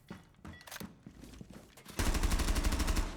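Rainbow Six Siege gameplay: scattered thuds and clicks give way to a sustained burst of rapid automatic gunfire, loud and continuous to the end.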